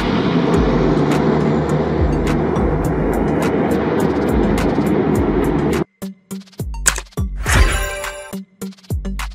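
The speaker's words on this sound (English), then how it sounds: "Water bomber plane." A loud, steady water bomber propeller aircraft drone holds for several seconds, then cuts into a series of short engine bursts and clanks.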